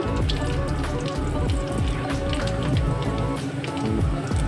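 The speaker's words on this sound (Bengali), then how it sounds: "এই তেলেই জিরে ফোড়ন দেব" Cumin seeds sizzling in the hot oil left from frying a fish head, a dense continuous crackle and spatter with scattered pops, close and steady throughout.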